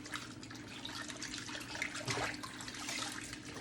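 Water running in a sink while lettuce is rinsed in a vinegar wash, a steady broadband splashing that swells slightly near the middle and keeps going without a break.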